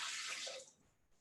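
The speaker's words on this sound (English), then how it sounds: "I'm putting half a cup of filtered water." Filtered water pours into a home blender in a kitchen, a bright, splashy stream that runs steadily for most of a second and then tapers off into quiet.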